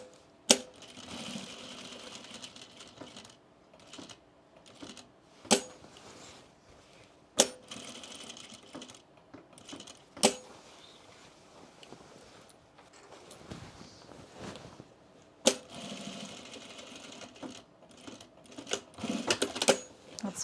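A sewing machine stitching a reinforcing X with a back stitch on cargo pants, heard as faint, steady mechanical whirring broken by sharp periodic clicks and knocks spaced a few seconds apart.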